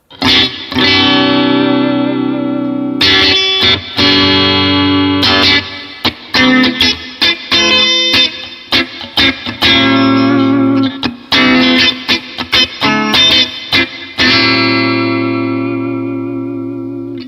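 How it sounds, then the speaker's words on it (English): Distorted electric guitar, a vintage 1967 Gibson Melody Maker with out-of-phase pickups, with a thin, hollow tone, playing strummed chords and choppy muted strums with effects, loud and alone. "It's more of an out of phase sound that sounds a little bit like this."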